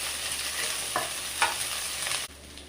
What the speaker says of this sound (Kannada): ಈಗ ಎಣ್ಣೆ ಬಿಸಿಯಾಗಿದೆ. ಇದು ಬ್ರೌನ್ ಆಗಬೇಕು ಈರುಳ್ಳಿ.